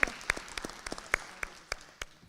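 Audience applause for young spellers at a school district spelling bee, sparse and scattered, with a few sharp individual claps standing out over a soft background patter.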